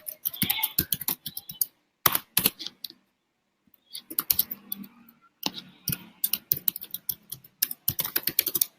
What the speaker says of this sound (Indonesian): Sebentar ya, saya lagi ngetik nih